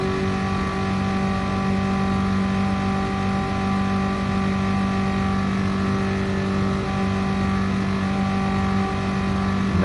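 Daihatsu Copen, untuned and unpainted, driving in Gran Turismo Sport: a steady, loud engine drone with strong harmonic tones holding nearly constant throughout, no talk.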